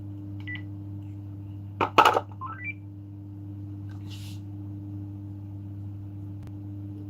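Telephone call tones sound on a phone line: a few short beeping tones and a quick burst of dialing near the start, then a steady low hum with faint blips.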